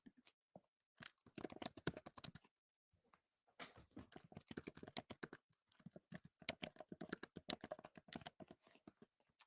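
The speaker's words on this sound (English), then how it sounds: "Okay, here I can just type it." Rapid clattering keystrokes on a computer keyboard, coming in quick bursts with short pauses, faint and close with no talking.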